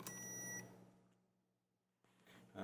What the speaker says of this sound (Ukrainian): звук у нас виходить з цих отворів, знаходиться там зумер